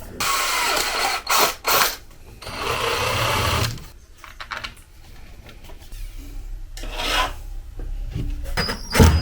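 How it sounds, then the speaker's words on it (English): Power drill boring keyholes through a panel, bursts of high grinding whine separated by pauses, with a low motor hum and handling clatter between cuts. "I'm just going to drill out the keyholes all the way through the other side"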